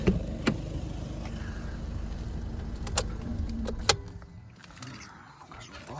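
A 2016 Skoda Octavia A7 liftback with a 2.0 TDI 150 hp diesel idles with a steady low rumble, a few sharp clicks and knocks, then the engine cuts off near the four-second mark and the sound drops to near silence.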